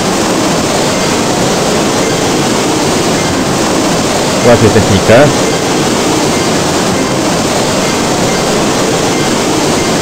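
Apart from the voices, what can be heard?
loud waterfall in the video game Claw, custom level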